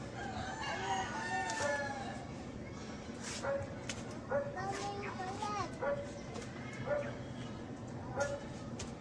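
At home during a quarantine lockdown, a rooster crows several times at a moderate distance among other fowl. People talk over a steady background hum.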